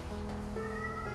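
Cats gathered around a bowl of boiled chicken and dried pollock meow softly nearby, a short mewing call rising over a low room hum.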